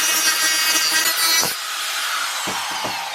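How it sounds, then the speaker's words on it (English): Die grinder working on a plastic action camera case, a continuous harsh high grinding whine for about a second and a half, then easing off into lighter scraping and a few short knocks, close and alone without speech. "using a die grinder for that is a lot like using a sledgehammer to drive a 10-penny nail"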